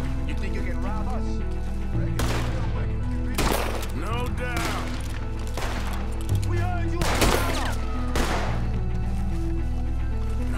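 Gunfire in the Western video game Red Dead Redemption 2, a night shootout with repeated loud shots and bursts spread across the clip, layered over voices and a constant game music bed.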